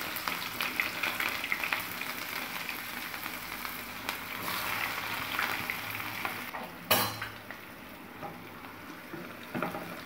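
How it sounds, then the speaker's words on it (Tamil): Sliced large onions hit hot oil for a mutton curry and fry with a steady, fairly quiet sizzle, broken by occasional stirring scrapes and a sharp clink of utensil against the pan. "இதில் நீல வாக்கில் கட் பண்ண பெரிய வெங்காயம் ஒரு 3 நம்பர் போடுறோம்"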